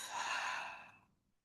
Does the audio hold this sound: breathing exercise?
yes